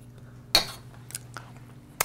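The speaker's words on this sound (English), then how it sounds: "And then take the spoon, clean off all the sugar." A spoon clinks and scrapes against a bowl while clearing sugar, three or four sharp metallic taps spaced irregularly over a quiet background.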